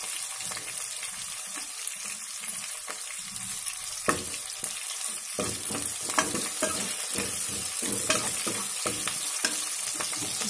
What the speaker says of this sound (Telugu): two minutes వేయించుదాం